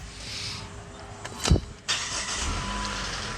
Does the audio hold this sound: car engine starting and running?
yes